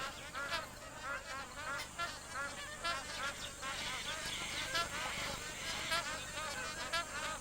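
Magpie geese and other wetland birds honk and chatter at a drying billabong in Kakadu, a busy, layered chorus of repeated nasal calls from a flock, moderately distant, with a faint insect-like buzz beneath.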